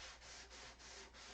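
Wood sanded by hand on a boat project gives quiet scratchy strokes, about four even back-and-forth passes, close and unaccompanied over a low background hum.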